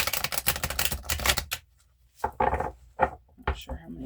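Tarot cards are shuffled by hand in a rapid run of papery riffles and clicks, close up, then broken into a few short, separate bursts after a brief pause.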